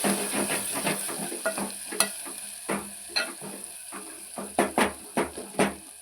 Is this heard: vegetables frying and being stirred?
yes